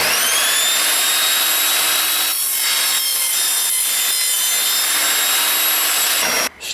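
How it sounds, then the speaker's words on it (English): Evolution Rage 5-S power saw cutting through wood studded with tacks, a loud steady whine with bright high harmonics held throughout, ending abruptly as the blade stops. "it'll still demonstrate what this saw can do."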